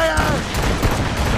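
Ship cannons in Assassin's Creed Rogue fire in a rapid volley of heavy booms, loud and close, with a voice over them.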